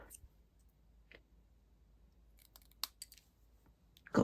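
Scissors trim paper ephemera for a Stampin' Up craft key ring, giving a few sparse, close snips and clicks over quiet background, with a sharper cluster near the end and one loud final cut.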